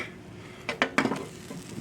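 A batch of buttermilk pancakes is flipped in a pan, giving a few soft clattering knocks of spatula against metal in quick succession, near and fairly quiet.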